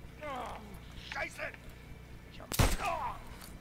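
A single loud gunshot bursts out midway through a World War II firefight in Call of Duty: WWII, following shouted German dialogue and brief talk, with faint background battle noise underneath.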